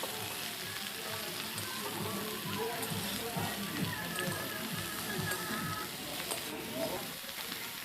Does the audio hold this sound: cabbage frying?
yes